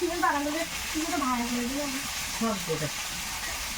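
Beans (sim) fry in a pan with a constant crackling sizzle while a person talks over it close by.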